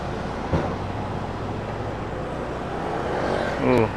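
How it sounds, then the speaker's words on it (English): A truck rumbles past on a road in San Pedro, Laguna, a loud steady roar of traffic throughout, with a brief horn-like tone near the end and a voice faintly mixed in. "Let this truck pass first."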